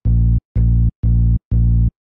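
Dry bass one-shot sample in Kontakt with no effects, struck four times in an even rhythm, each hit a deep, loud, sustained low tone that cuts off cleanly into silence.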